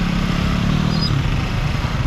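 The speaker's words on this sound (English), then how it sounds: "Got the engines all revved up." Motorcycle engines rumble and rev together on a busy Macau street behind the Lisboa Casino, a loud, dense, continuous low drone close by with no break and no voices.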